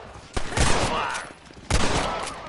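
Gunfire rings out in a Red Dead Redemption shootout at a shack, with two loud bursts of close, echoing shots about a second apart, each trailing off into reverberation.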